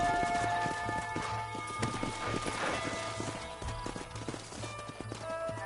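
Horse hooves clip-clop in the Western video game Red Dead Redemption, a run of rhythmic close hoof beats over a canyon scene with game music, and a faint whinny.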